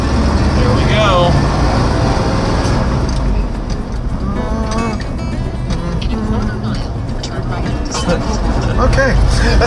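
Steady engine drone and road rumble inside a four-wheel-drive crew cab tow truck with a four-speed while driving, continuous and fairly loud, with people talking over it throughout.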